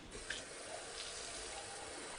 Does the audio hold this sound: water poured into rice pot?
yes